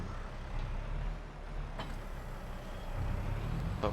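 Massey tractor engine in a farming video game, a steady low diesel drone with a slight rise in pitch partway through, alone and fairly quiet.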